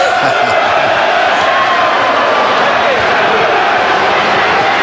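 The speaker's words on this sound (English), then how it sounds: "They're singing upstairs. They're cheering downstairs. The applause is building." Boxing arena crowd at a Lennox Lewis versus Evander Holyfield heavyweight title fight, a loud, dense and steady roar of cheering and applause with whoops, filling the whole stretch without a break.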